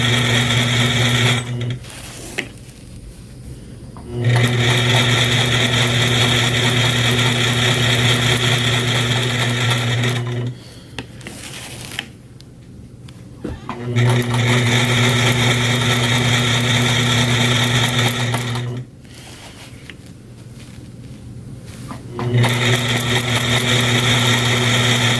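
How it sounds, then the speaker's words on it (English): A sewing machine stitching out a 4-inch quilted square design with free-motion ruler work, a loud steady mechanical hum running in long stretches, broken by three short pauses. "This stitch out is taking a little longer than last week's triangle. The 4-inch square just has a lot more stitching on it."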